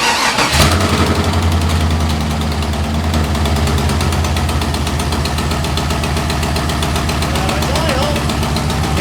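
A 6.0L LS swapped Chevrolet S10 cranks and fires within the first second, then settles into a loud, close, rumbling idle with a steady pulsing beat; faint voices may sit under the engine.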